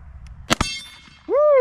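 A sharp gunshot followed almost at once by the ringing clang of a hit steel target, then a voice whoops loudly right after.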